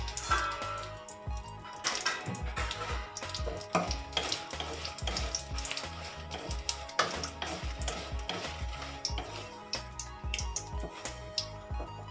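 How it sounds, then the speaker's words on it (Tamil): Dried red chillies fry in a pan for a Tamil tomato gravy, with a busy sizzle broken by clatters and stirring scrapes throughout, close and fairly loud. "முதல் காஞ்ச மிளகாயை போட்டு வறுத்துடலாம்."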